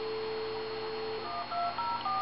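Touch-tone dialing beeps from a handheld phone on speakerphone: a steady tone, then a quick run of paired dial tones played loud and close, with no talking.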